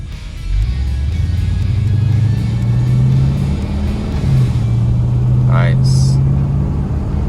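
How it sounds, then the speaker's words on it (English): A 1966 Buick Wildcat with a Turbine 400 transmission driving and shifting, a loud steady engine drone and road rumble with the pitch changing between gears, with a brief spoken word over it. "It's also downshifting really well, coming through the gears back down into a stop."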